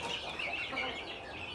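Chickens on a flooded farm cluck softly and continuously amid faint outdoor background noise, with no talking.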